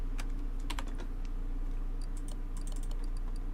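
A computer mouse and keys click during Car Mechanic Simulator 2018 play, sounding as scattered sharp clicks in irregular bursts over a steady low hum.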